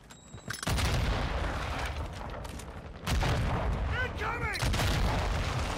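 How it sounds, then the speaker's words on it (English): Grenade blasts in Call of Duty: Warzone: two heavy booming bursts, the first at about half a second and the second near three seconds, each followed by sustained loud rumble, with whistling game effects after the second. "Grenade!"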